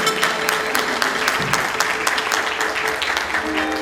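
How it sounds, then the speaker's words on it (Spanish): Concert audience applauding a performing group, a sustained, fairly loud wash of clapping with a faint low tone running underneath. "Y rápidamente le pido un aplauso"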